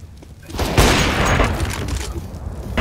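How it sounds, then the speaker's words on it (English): A flashbang grenade goes off during a competitive CS:GO match, a loud broadband burst that swells from near silence and then lingers as a ringing, roaring wash for the rest of the moment. "Deploying flashbang."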